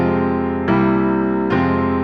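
A piano plays a chord progression in which a major III chord resolves to a minor vi. Sustained chords shift twice, each change struck cleanly and left ringing, with no voices.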